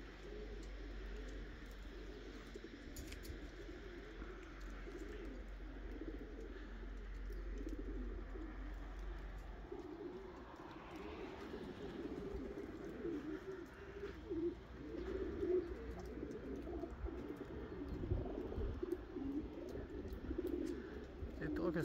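Racing pigeons coo faintly at a pigeon loft in a low, soft, repeating murmur, heard at a distance against a quiet outdoor background with a faint voice-like hum.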